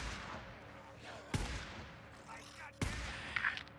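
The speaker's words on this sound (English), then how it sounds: "I hear gunshots" Two distant, muffled gunshots in the video game Days Gone thud a second apart over a low rumbling background, with faint noises in between.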